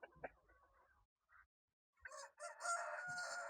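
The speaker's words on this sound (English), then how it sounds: "you've seen the cocks, and these are the hens." Farm chickens, with a rooster crowing loudly near the end after scattered clucks and soft bird noises from the hens and cocks in the yard.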